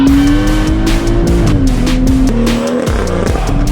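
A car launches hard in Sport Plus mode for a timed 0 to 60 run. The engine note is loud and close and climbs in pitch through several quick gear changes, with some tire noise underneath and no talking.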